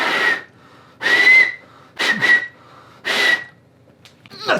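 Several loud, piercing finger whistles sounded with fingers in the mouth, four distinct blasts with short breathy gaps and some rustling between them, close and alone.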